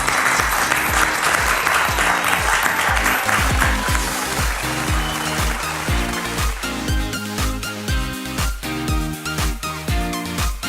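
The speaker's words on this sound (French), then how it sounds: "On vous applaudit" A studio audience at a televised game show applauds over loud rhythmic music, the clapping fading beneath a driving beat and bass after the first few seconds.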